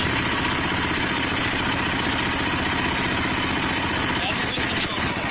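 A motorcycle engine idles fast with the choke off and the idle cranked way up, giving a steady close rhythmic chug, with a voice speaking over it briefly near the end.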